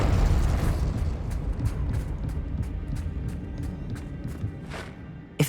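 In Hogwarts Legacy, the Confringo explosive spell bursts with a loud, rumbling explosion that fades over a few seconds amid crackling pops, then ends with a sharp closing thud.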